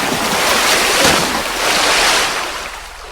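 Ocean waves surge onto a beach during a salmon run where sea lions hunt, a loud, continuous wash of surf with broad rolling swells and some wind rumble, with no voices present.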